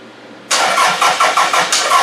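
A car engine cranks over with a fast rhythmic chug from the starter, loud and close, beginning abruptly and continuing in even pulses without catching.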